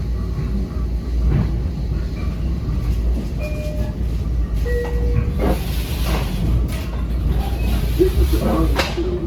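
A commuter train runs through Far Rockaway, a loud steady rumble and hiss with rail clatter and brief squeals and clanks rising over the engine drone.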